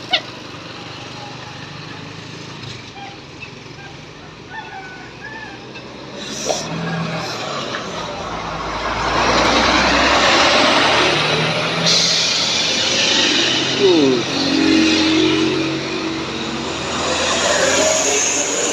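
A Putra Pelangi sleeper bus passes on the road, its engine and tyre roar swelling from moderate to loud and lingering, with faint voices early on and a short hiss of air brakes.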